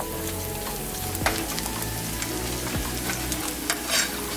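Rice flour cake pieces sizzle in hot oil with about two cracked eggs, a dense, steady frying hiss with occasional scrapes and clatters from stirring, close and fairly loud.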